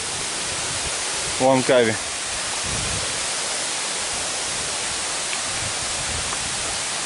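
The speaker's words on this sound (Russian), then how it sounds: "этот водопад, наверное, самый красивый из тех трех, что мы видели" Durian Perangin waterfall on Langkawi, Malaysia, a steady broadband rush of falling water that continues unchanged, with a brief spoken phrase near the start and faint background sounds.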